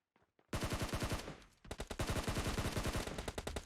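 Automatic gunfire in a Turkish-language video game, with long rapid bursts of loud, close machine-gun fire, a brief pause, then another sustained volley.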